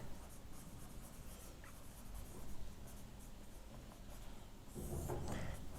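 Marker or pen strokes during a trigonometry math lecture, with steady faint scratching and rubbing continuing throughout and no voice heard.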